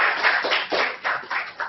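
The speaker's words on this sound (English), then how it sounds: "We just have a quick round of applause." A short burst of applause from a panel discussion audience, a small group clapping for under two seconds with uneven, pulsing claps and no voices.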